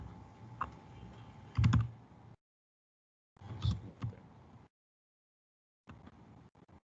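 Quiet bursts of typing on a computer keyboard, entering a Hive query, come in three short runs separated by silent gaps, with rapid clicky keystrokes close and fairly faint.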